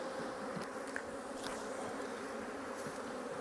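A dense, steady buzzing of many honey bees being shaken into a hive split fills the air, low and continuous throughout, with occasional faint rustles.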